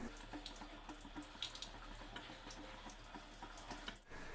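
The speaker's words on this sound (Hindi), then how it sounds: "इस तरह से पानी को बाहर गिरा देना है" Water gushes out of a Hindware wall-mounted flush tank cistern being drained during installation, a steady splashing pour with small clatters that runs nearly four seconds before cutting off abruptly, no voices present.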